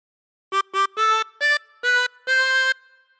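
A chromatic harmonica plays the opening phrase of We Wish You a Merry Christmas, six clear reedy notes in a short rhythmic run, the last one held longer, close and solo with no talking.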